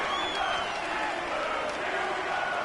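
Crowd noise from an American football video game on PS4 swells steadily as a big third down approaches, a dense, continuous roar of cheering that fills the whole stretch without pause.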